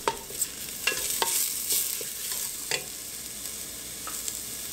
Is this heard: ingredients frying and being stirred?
yes